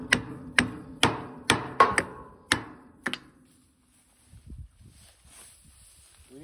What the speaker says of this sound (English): we have to try and hammer this coupler on a little bit further to try and get the shaft to fit